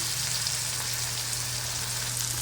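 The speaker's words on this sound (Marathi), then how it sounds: "मीठ घातल्याच्या नंतर पुन्हा हे परतून घेऊया।" Tomatoes sauté with salt in a hot pan for a dry ghevda bean bhaji, giving a steady, even, close sizzle throughout with no pauses.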